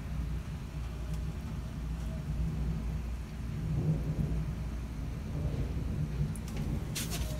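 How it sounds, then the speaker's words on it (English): A severe summer thunderstorm in southeast Michigan, with long, continuous rolling thunder rumbling low under steady rain on surfaces, swelling in the middle and holding at a loud, broad level throughout. "It's been thundering for like 2 minutes straight."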